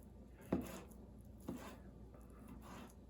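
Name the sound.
LionSTEEL M5 knife cutting meat into smaller pieces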